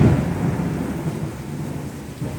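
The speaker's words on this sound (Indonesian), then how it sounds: "Geledeknya mantep ya" Thunder rumbling during a heavy rainstorm at a car repair workshop, a loud, deep, continuous roll over steady rain, with no voices.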